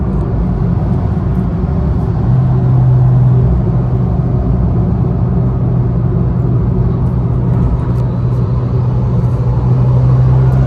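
An Abarth 595 Limited Yamaha car under full-throttle acceleration, heard as a loud, steady engine drone and rumble from inside the cabin, continuous for about ten seconds with a slight rise in pitch partway through.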